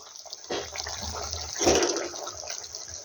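Boiled eggs tipped into a pot of simmering egg curry gravy with potatoes, giving a wet liquid splash and bubbling that swells midway, then settles to a steady simmer.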